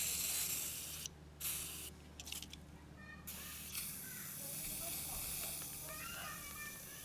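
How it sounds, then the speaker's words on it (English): WD-40 aerosol can sprayed to clean parts of an old Victa VS19 straight-shaft strimmer; several short, sharp hissing bursts close by, followed by quieter rustling and handling noise. "Now the WD-40 clean this."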